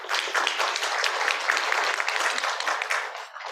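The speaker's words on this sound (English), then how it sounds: "A very well-deserved round of applause" An audience at a business dialogue on the RCEP trade agreement gives the translator a sustained round of applause, dense and steady, tapering off near the end.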